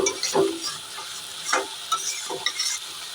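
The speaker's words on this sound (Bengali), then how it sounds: "আস্তে আস্তে কষিয়েছি" Fried fish heads being stirred in a pan for a spicy oil curry, an even sizzle broken by several sharp spatula scrapes and knocks, with no talk.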